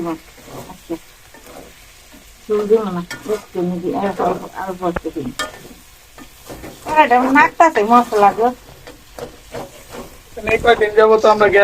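Meat curry cooking in a pot on a gas stove, with steady sizzling and stirring scrapes running throughout while people talk over it for much of the time.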